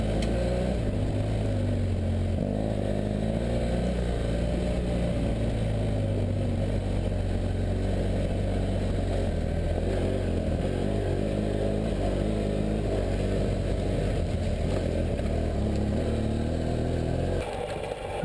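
A BMW F800GS motorcycle rides at a relaxed, steady pace over a rough off-road trail, its engine droning loud and close with a constant clattering pulse for the whole stretch.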